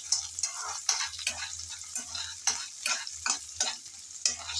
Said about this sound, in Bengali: সব এখন একসাথে নেড়ে চেড়ে হালকা করে ভেজে নেব।